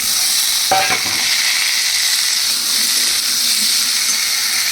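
Taro and potatoes fry in hot oil in a pan, giving a loud, steady, close sizzle that runs without a break, with a brief clatter near the start.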